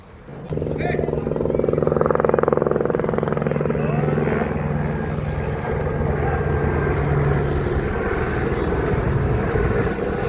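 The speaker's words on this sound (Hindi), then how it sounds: "ये हेलीकॉप्टर आपके साथ" A helicopter flying near a hill road between Dehradun and Kempty, a loud steady rotor drone with low throbbing tones that fills the whole clip close by.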